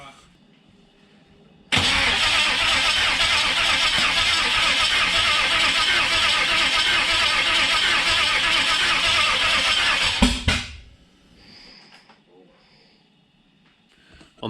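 Turbocharged Holden 304 V8 cranking and starting for the first time in 12 years, a loud sustained roaring burst of engine noise for about eight seconds before cutting off abruptly, followed by quiet with faint background sounds.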